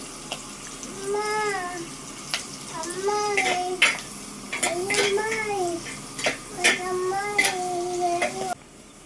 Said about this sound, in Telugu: దీంట్లోకి కరివేపాకు కూడా వేసేసుకుందాం.